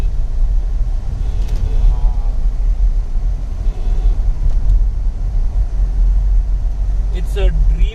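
A 2021 Skoda Kushaq 1-litre automatic drives through heavy rain, heard from inside the cabin as a constant deep road and engine rumble with a faint voice briefly near the end.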